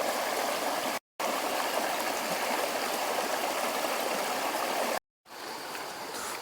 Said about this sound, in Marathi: पाणी बघा कसं येतोय.